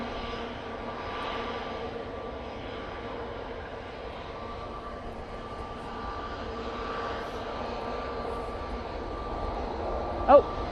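A Ryanair airliner arriving at Manchester Airport on a windy day gives a faint, distant, steady engine drone with a soft hum throughout, under light wind noise.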